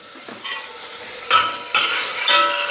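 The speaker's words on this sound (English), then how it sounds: "waiting for the onions to sweat off" Chopped onions with caraway seeds sweating in a hot pan, a steady loud sizzle broken by a few sharp bursts as they are stirred, with no voices.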